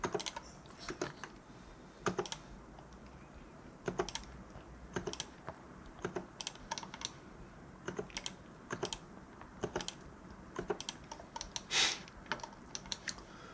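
A computer keyboard is being typed on while someone works in Revit and presses the Tab key repeatedly. The keystrokes come as crisp, close, irregular clicks, some in quick runs, with no talking.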